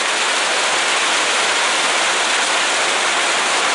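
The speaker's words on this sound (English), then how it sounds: "Man, it's really pouring now." Heavy Labor Day rain pours down outdoors over a garden of overloaded plants, a dense, loud, steady hiss of water that fills the whole stretch without pause or voices.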